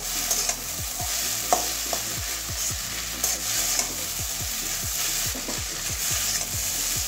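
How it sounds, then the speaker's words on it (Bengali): Egg chowmein tossed with chowmein masala in a hot pan, a steady sizzle with repeated close scraping strokes of a spatula at a regular rhythm. "চাউমিন মশলার সঙ্গে ভালো করে মিশিয়ে দেবো।"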